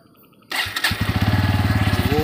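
A Bajaj Pulsar N160 motorcycle engine cranks and starts up close, then settles into a loud, rapid, steady idle thump with no talking.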